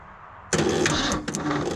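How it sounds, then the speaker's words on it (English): A Ford dump truck engine cranking after sitting for 20 years, starting abruptly after a quiet moment with a loud, close, rhythmic churning of the starter and engine. "let's try and crank it again."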